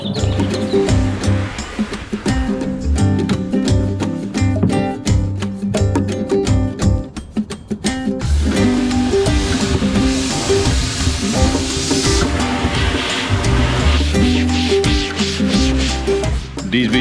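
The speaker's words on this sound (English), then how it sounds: "the long handle of the BFG 9000 enables you to get up into the nooks and crannies of the kayak and really clean it well" A long-handled brush scrubs the inside of a Prijon Yukon Expedition kayak, a loud, continuous bristly rubbing with a quick back-and-forth rhythm that echoes slightly inside the hull, with birds faintly audible.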